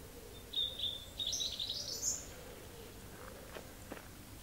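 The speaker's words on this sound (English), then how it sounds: "Little bird singing." A small bird sings a few thin, high chirping phrases at a distance, faint and brief against a quiet outdoor background with no talking.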